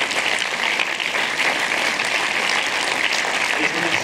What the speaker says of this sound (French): donc applaudissez très fort les deux gagnants.